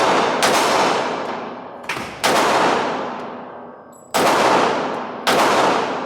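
Several loud gunshots fired by a mother handling a gun for the first time, in Jamaica, each sharp crack followed by a long echoing decay, four blasts spread unevenly across the span with no talking.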